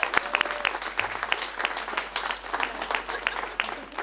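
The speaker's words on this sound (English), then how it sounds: "So let's give her a big round of applause" Audience applause at a San Diego City Clerk celebration, a dense, steady wash of many hands clapping close by for the full stretch, with sharp individual claps standing out and a low hum beneath.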